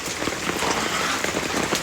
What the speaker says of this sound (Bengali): এত বৃষ্টিতে কি থাকা যায়? যে পুরো জল পড়ছে